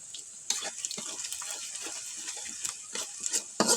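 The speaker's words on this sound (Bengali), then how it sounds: "আবার নেড়ে চেড়ে দিচ্ছে।" Food frying in a pan on a clay stove gets stirred, giving a steady close sizzle broken by scraping and clinking strokes of the spoon every half second or so.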